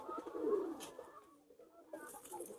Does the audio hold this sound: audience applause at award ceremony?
no